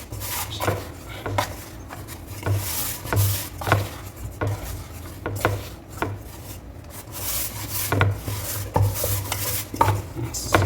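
Flour dough for vegetable paratha being mixed by hand in a bowl, giving continuous rubbing and scraping with repeated soft knocks, close and steady, with faint background noise and no clear speech.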